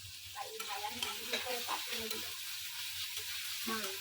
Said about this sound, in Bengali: আলু ঢেলে দিচ্ছি, আলুর সাথে পেঁয়াজ ভেজে ফেলাবো।